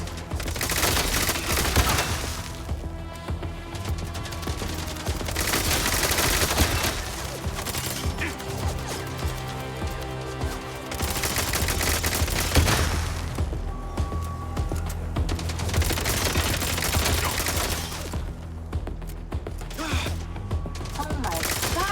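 Video-game gunfire in MindsEye, a dense fusillade of rapid shots and mechanical clatter under a busy, loud game soundtrack, continuous across the whole stretch.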